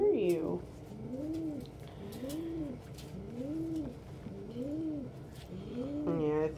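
A pet pigeon coos close by in a steady series of about five rhythmic, rolling coos, with a soft background murmur.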